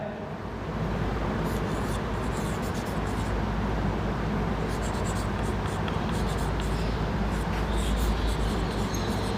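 Marker or chalk writing on a board during a maths lesson, a continuous scratchy scribbling that runs through most of the stretch with brief pauses, close and fairly clear.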